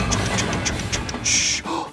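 Cartoonish train sound effect in a children's shapes video: a quick run of rhythmic chugging pulses followed by a short, bright whistle blast.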